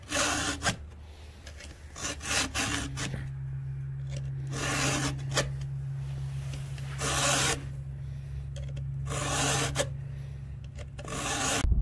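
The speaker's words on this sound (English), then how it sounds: "just got done sharpening the saw" A chainsaw chain is sharpened with a hand file, making repeated close rasping strokes in uneven bursts, with wind noise and a low steady hum underneath.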